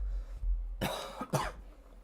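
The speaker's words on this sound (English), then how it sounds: "I'm sorry, I'm trying not to cough." Two sharp coughs close by, one after another, with a short pause between them.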